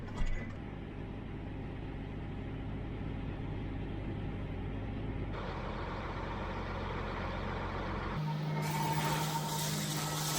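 A truck engine idles steadily on a farm, a continuous low mechanical rumble that holds at a constant level with a shift in tone partway through, heard alone with no voices.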